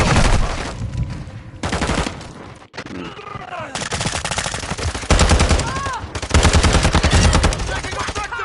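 Rapid automatic gunfire and bursts of shooting from the Modern Warfare 2 video game, loud and nearly continuous, with brief gaps and a moment of lighter sounds before the firing resumes heavily.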